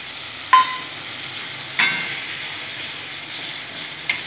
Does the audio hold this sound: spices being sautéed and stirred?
yes